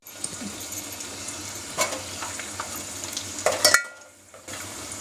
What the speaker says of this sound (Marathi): लसूण लालसर होऊन द्यायचा